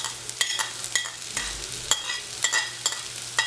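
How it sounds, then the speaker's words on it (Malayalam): Spice masala being stirred and fried in a pan as capsicum goes in, with repeated scraping strokes of a spoon against the pan over a soft, steady sizzle, close and clear with no talking. "എല്ലാം കൂടെ നന്നായിട്ട് മുപ്പിക്കുക."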